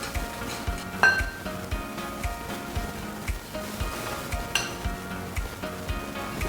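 Hot water being stirred by hand into dalgona coffee mixture with a spoon in a cup, a busy scraping and clinking whisk that runs continuously, close and fairly loud, with no talk.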